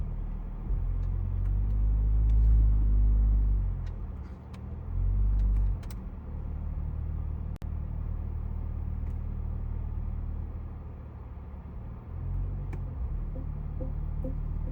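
A car engine idles steadily while reversing, a low close rumble with a couple of slight swells in the first seconds, then settling into an even drone, with no talk.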